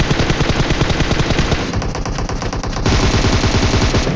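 Rapid automatic gunfire in a mobile battle royale shooter, a loud, close, continuous burst of shots that shifts in tone partway through as the firing continues without pause.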